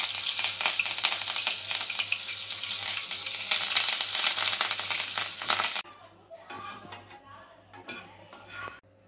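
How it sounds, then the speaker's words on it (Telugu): Peanuts fry in hot oil for a home-style atukula mixture, a loud dense sizzle for about six seconds, then a sudden drop to quieter crackling with clinks of a utensil against the pan. "పలుకులు వేసుకొని నూనెలో వేసుకోండి"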